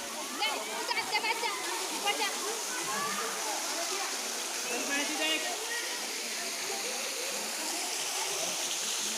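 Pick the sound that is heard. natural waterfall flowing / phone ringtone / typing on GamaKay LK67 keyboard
natural waterfall flowing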